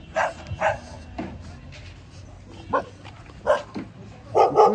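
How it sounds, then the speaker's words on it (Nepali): Several dogs giving scattered sharp barks and yips at a busy spot where meat is being butchered, some close and some farther off, with faint background murmur between the barks. "कुकुर चाहिँ यहाँनिर लास्टै धेरै रहेछ"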